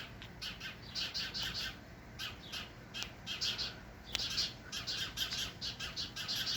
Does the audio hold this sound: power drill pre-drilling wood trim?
no